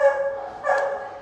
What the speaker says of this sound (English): 8-month-old cattle dog terrier